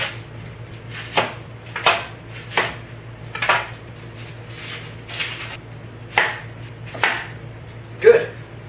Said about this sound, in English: This one I'm just going to cut to quarters.